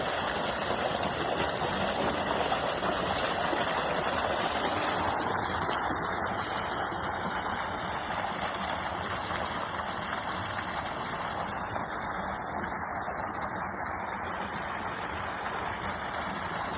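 A repaired deep tube well pump runs with a steady mechanical hum while water gushes out in a constant broadband rush, holding level and unbroken for the whole stretch.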